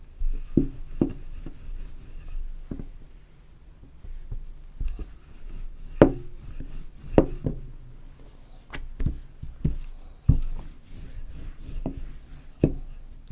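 Yufka dough, made with starch and flour, rolled thin to plate size with a rolling pin on a board, giving soft repeated wooden knocks and rubbing strokes at close range in an uneven rhythm, with no talk.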